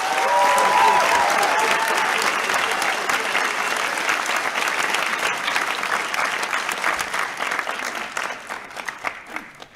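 Loud crowd applause at a 2022 graduation ceremony for postgraduate and undergraduate students, dense clapping that holds steady and slowly thins and fades toward the end.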